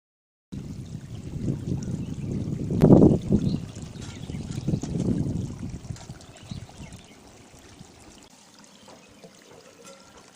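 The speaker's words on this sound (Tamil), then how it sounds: "குழம்பு நல்லா கொதி வருது." A prawn and bottle gourd curry boils in a pot, bubbling and churning close by. The sound is fullest early on, then settles into a quieter simmer.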